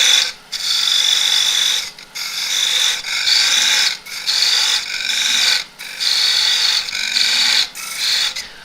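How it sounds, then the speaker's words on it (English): A fluted parting tool parts off the foot of a monkey puzzle end-grain wooden bowl on a lathe, giving a steady close rasping hiss in repeated passes of about a second each, broken by brief pauses. "just with the fluted parting tool I'm going to come down here, and that's where I want to part it off"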